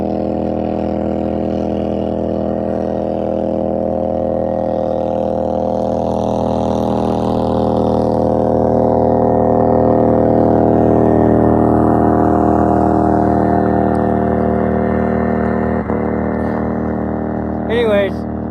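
A loud motorboat engine drones steadily on a river, swelling as it passes close by, with a person talking over it at times.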